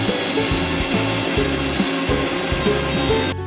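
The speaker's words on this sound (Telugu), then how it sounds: "వీటన్నిటిని మిక్సర్ గ్రైండర్లో తీసుకొని పేస్ట్ చేసుకోవాలి" A kitchen mixer grinder whirs steadily as it blends onion, green chilli, ginger, garlic and coriander into a paste for chicken, a continuous motor drone with a pulsing low rumble that cuts off abruptly at the end.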